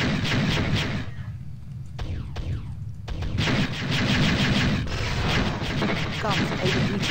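Rapid bursts of spaceship gunfire and heavy blasts in the space combat game Privateer 2, loud and almost continuous, with a short lull and some electronic sweeps in the middle.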